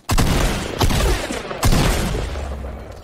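A minigun firing in the Fortnite video game, three loud bursts of rapid gunfire roughly a second apart, each sharp onset trailing into a booming rumble, with no talking.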